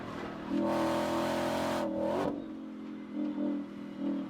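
A Ford Mustang GTD sports car engine revs hard and holds a high note, then drops through a quick downshift with a blip before settling into lower rumbling revs.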